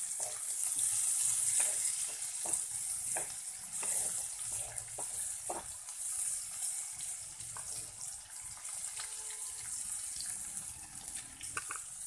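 Chopped tomatoes frying in a pan for a bitter gourd curry, a continuous hissing sizzle with scattered spatula taps and scrapes, close and steady with no voices.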